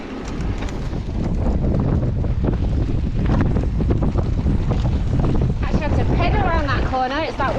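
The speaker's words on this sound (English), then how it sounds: "Corner, it's that windy." Strong wind buffets the microphone in a loud continuous roar, with thumps and rustling throughout and a voice talking briefly near the end.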